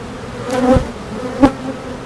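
Honeybees buzz around an open hive, close and loud, with two sharp passes as individual bees fly near, over a steady low hum.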